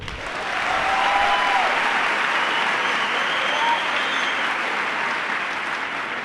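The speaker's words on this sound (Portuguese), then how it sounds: "Quem está me ouvindo pode aplaudir." A church congregation breaks into applause, swelling within the first second into sustained, even clapping from a large crowd that continues for several seconds with a few faint voices.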